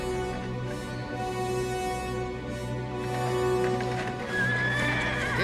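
A horse whinnies and snorts near the end while hooves clip-clop steadily over a continuous background, with no talking.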